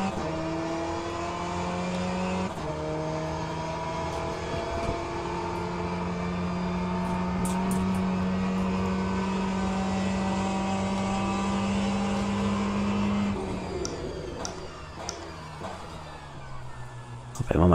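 Race car engine held in third gear in Le Mans Ultimate, a steady droning tone that rises slightly, then drops and shifts near the end, with someone talking over it.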